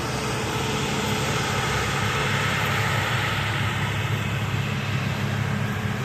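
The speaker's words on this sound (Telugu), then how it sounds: "ఇదిగోండి మిషన్ స్టార్ట్ అయింది మన చేనులో" A crop harvesting machine's engine runs steadily in a farm field, a continuous broadband drone with a low rumble, moderately loud and unchanging, with no voices.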